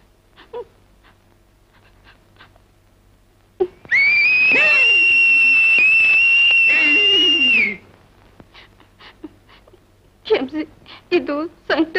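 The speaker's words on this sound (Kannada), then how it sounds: "ಇದು ಸಂಕಟದ ಸೀಟಿ." A woman whistles one long, loud, sustained high note lasting about four seconds, with sparse background sounds and voices before and after it.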